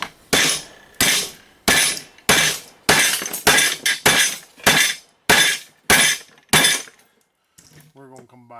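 Repeated loud, sharp hammer blows break apart a coffee grinder for scrap metal, about a dozen harsh metallic impacts in a steady rhythm, then a brief quiet and a faint voice at the end.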